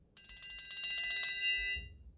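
Triangle in a concert band percussion part played as a roll that starts soft and swells steadily to a loud, shimmering ring before a sudden stop, heard alone.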